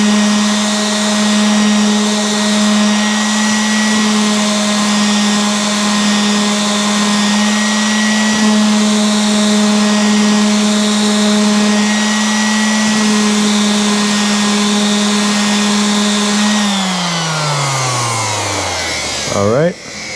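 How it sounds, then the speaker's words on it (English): A power tool polishes the edges of pin oak decking with a loud, steady high-speed whine and hum. It holds an even pitch, then winds down in a falling tone as the motor stops near the end. "Give it the final polishing."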